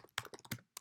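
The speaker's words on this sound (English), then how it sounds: "I was just typing something." Quiet typing on a computer keyboard: a short burst of several crisp, close key clicks in an uneven rhythm with small pauses between them.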